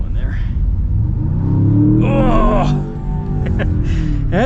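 A 2026 Land Rover Defender OCTA Black accelerates hard, its engine swelling into a loud, deep, rising roar, with an excited voice briefly cutting in over it.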